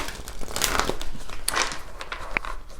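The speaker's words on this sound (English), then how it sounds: "I'm going to give the tarot a quick shuffle" A deck of stiff tarot cards is shuffled by hand, giving a continuous close crinkling and riffling with sharp little snaps scattered through, and no voices over it.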